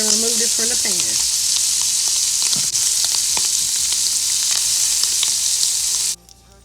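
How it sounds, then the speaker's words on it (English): Shrimp sizzle in a frying pan, a steady bright hiss with a few brief clinks and stirring sounds, cutting off abruptly near the end. "flip your shrimp over and let it cook about 2 minutes on the other side"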